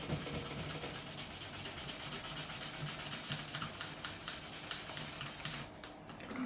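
Wet 2000 grit sandpaper polishing the frets of a PRS SE Standard 24 guitar, a steady close rubbing hiss with quick back-and-forth strokes that run unbroken and evenly paced.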